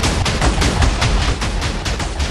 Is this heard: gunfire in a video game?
yes